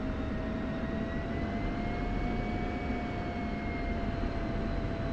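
An F-16 jet engine spools up as the throttle is cracked in the DCS flight simulator, a steady loud broadband roar with rising whine tones held evenly throughout.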